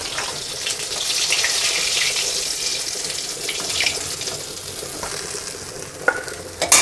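Fresh live fish fries in hot oil in a pan, giving a strong continuous sizzle and crackle, with a few sharp clatters near the end.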